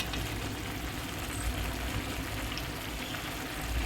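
Water is poured into a simmering pot of stuffed brinjal curry, a steady, continuous pouring and bubbling sound that stays even and fairly close throughout.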